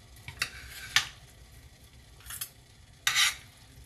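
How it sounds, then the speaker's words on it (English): Utensils scrape against a pan while pasta is stirred: four short, sharp scraping strokes close by, separated by quiet moments over a faint background hiss. "I'm sorry for the scraping. It's these utensils in my pan."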